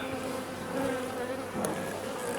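Honey bees buzz in a steady, close drone around an opened beehive during an inspection of the frames. The hum carries on without talk for a couple of seconds.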